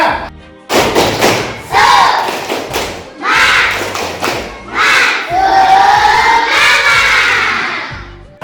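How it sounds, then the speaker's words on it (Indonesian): A classroom of children doing a rhythmic 'tepuk semangat' clapping chant, loud patterned claps mixed with shouted chanting voices in bursts, close and energetic. "Bapak mau tes kekompakan kalian dengan tepuk semangat."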